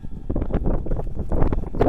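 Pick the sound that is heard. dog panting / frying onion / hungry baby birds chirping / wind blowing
wind blowing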